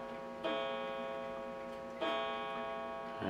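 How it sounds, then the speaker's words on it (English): A clock chimes twice in a quiet workshop, each sustained, ringing tone arriving about one and a half seconds apart and slowly fading under a faint steady tick. "And as the clock chimes and tells me it's lunchtime."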